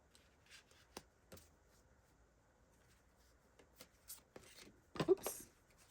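Tarot or oracle cards being shuffled by hand, soft scattered riffles and taps spread across the clip, quiet and close, with a louder flurry near the end.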